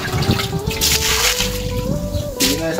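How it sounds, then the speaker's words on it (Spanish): Water is poured over a bathroom floor during construction of a new concrete floor and drain, a close splashing trickle with shifting pitch as it spreads and pools. "Vamos a echarle mucha agua."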